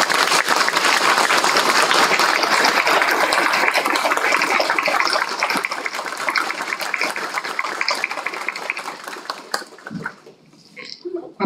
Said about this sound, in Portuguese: Eu queria pedir uma salva de palmas para a banda.